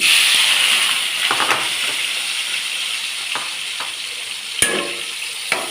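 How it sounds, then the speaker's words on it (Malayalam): Tomato, onion and ginger sautéing over a low flame, a gentle steady sizzle with scattered spoon taps and scrapes, including one sharper knock near the end, heard up close without talk. "എല്ലാം കൂടെ വഴറ്റാം. ചെറിയ ഫ്ലെയിമിലൊന്ന് വഴറ്റാം."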